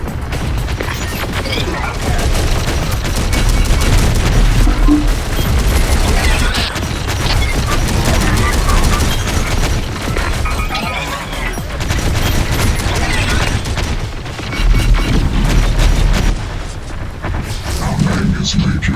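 Dense, continuous battle din from the Terminator: Dark Fate - Defiance video game, with sustained gunfire and heavy booms blending into a loud wall of combat noise throughout, with voices mixed in.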